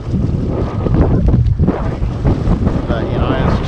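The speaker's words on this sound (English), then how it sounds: "Good gust coming in." A wind gust buffets the microphone while sailing a Hobie Tandem kayak on open water, giving loud, rough rumbling bursts with boat and water noise, near and continuous for a few seconds.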